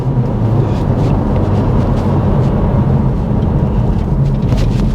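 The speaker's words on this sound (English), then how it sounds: "And taking off in first gear here," A 2024 Acura Integra Type S pulling away in first gear, heard as a loud, dense, continuous engine and road roar from inside the cabin, steady throughout with no talking.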